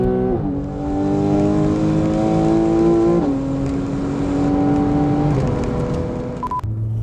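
A 2013 Porsche 911 Carrera S with an automatic transmission accelerates hard, its engine note climbing steadily and dropping quickly at each fast upshift, loud and close throughout.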